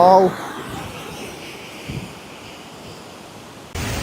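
Steady broadband rush of falling water at Charpa waterfall, fairly close and continuous, with a brief voice at the start and a louder burst near the end.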